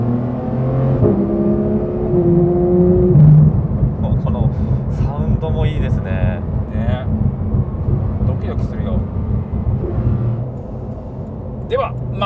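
A late-model Porsche 911 GT3 RS (Type 991) accelerates hard, its engine rising into a loud, rasping roar that then settles into a sustained rumble while people talk in the cabin.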